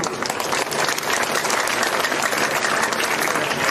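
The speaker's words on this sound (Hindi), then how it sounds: "असंध वालों की ताली, इस विधानसभा की ताली चंडीगढ़ तक जानी चाहिए" Crowd at a Haryana election rally and village gathering bursting into loud, sustained applause, dense clapping filling the air steadily throughout without a break.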